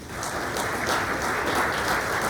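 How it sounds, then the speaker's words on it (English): An audience at a chamber of commerce candidates forum gives a steady round of applause, dense and continuous throughout. "Let's give them all a round of applause."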